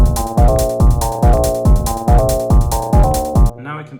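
Two atonal pitch sequences from a modular synth play together in a steady, plucky repeating pattern of loud notes, sounding alone and cutting off near the end.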